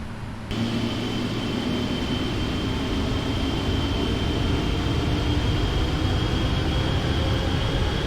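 PMDG Boeing 777 engines in the Prepar3D flight simulator spooling up for takeoff: a broad, steady roar that jumps up early and then holds loud and continuous, with a faint high whine across it.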